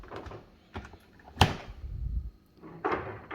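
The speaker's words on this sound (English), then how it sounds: "Close the door." A Samsung fridge door shuts with a sharp close-up thud, preceded by faint handling clicks and rustles of the filter being reinstalled, followed by more soft fumbling noises.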